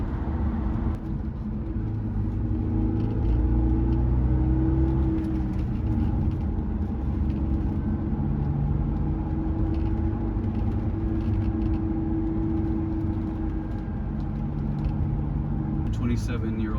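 A 1994 Acura Legend GS with a 6-speed manual drives with a steady, low engine and road rumble inside the cabin while someone talks over it.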